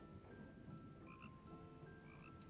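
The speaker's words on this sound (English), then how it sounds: "Can we hear the frog?" Frog in the Cozy Caravan video game croaks in a few short repeated calls over a soft ambient game soundscape, quiet and alone.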